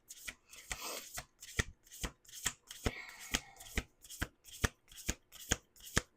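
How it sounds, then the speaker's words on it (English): Cards being shuffled repeatedly in quick riffling bursts, a dozen or so crisp snaps in steady rhythm, close and fairly quiet. "I'm going to do 2 more shuffles."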